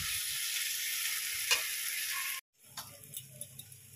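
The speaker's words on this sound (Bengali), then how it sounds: "এবারে জোরে তেজ করে ভেন্ডিটা ভালো করে কষিয়ে নেব" Okra frying and being stirred in a pan on high heat, a loud hiss that cuts off abruptly partway, followed by quieter ticks and light clinks of stirring.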